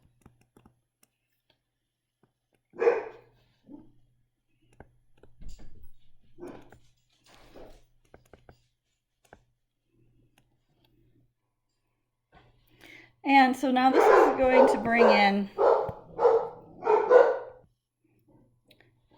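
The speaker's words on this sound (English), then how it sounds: "I had to pause to yell at barking dogs" A burst of repeated dog barks, several dogs yapping close and loud, following a few sparse words of speech and scattered quiet sounds.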